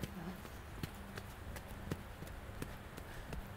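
Horse hooves trotting on an arena surface during a riding lesson with a young horse, a steady series of soft, evenly spaced clip-clop beats at moderate distance under faint background noise.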